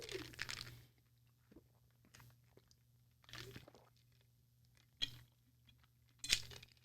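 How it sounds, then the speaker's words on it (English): Someone chews an ice cube, giving several separate crunching bursts spaced a second or so apart, close and fairly quiet, with near silence between bites. "I shouldn't do ice when I do podcasts because I chew into the thing."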